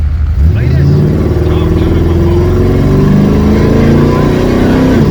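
Loud, constant engine drone from inside a moving car, with a rising whine as it accelerates, filling the whole clip.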